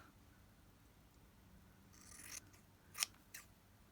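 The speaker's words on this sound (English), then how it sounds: "So I'll start by cutting some strips." Scissors snip through scrap fabric as it is cut into strips for a micro collage, a few crisp close cuts clustered near the end after a quiet start.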